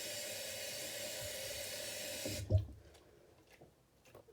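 Running water pours steadily while hair is rinsed during a protein treatment, a close broadband gush for about two and a half seconds that cuts off with a thump, leaving faint drips and small knocks.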